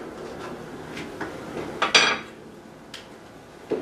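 A metal spoon scrapes and scoops the flesh out of a cut avocado, with a few soft taps and one sharper clink against a bowl or board, close up and without any talking.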